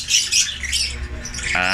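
A stressed aviary bird lets out a couple of short, harsh squawks close by, with no talking.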